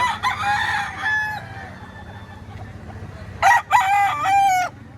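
A Kanawayon gamefowl rooster at the Lipa auction market crows loudly and close, once at the start and again a few seconds later, over a low murmur of market background noise.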